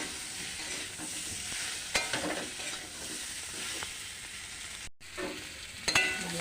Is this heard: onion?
yes